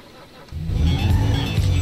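A Lamborghini Veneno supercar in GTA V on FiveM starts up half a second in, settling into a loud, steady engine roar with rev swells that holds to the end, with no one talking.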